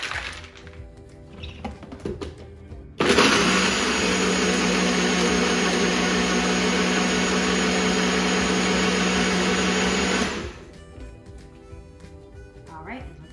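A kitchen blender whirs loudly and steadily for about seven seconds, mixing a milk drink, starting and stopping abruptly, with faint household sounds before and after.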